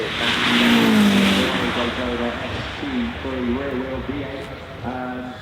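An 830-horsepower Ferrari 812 Competizione A accelerates hard, its engine note climbing and shifting through several rising sweeps, loud and close, with voices talking over it.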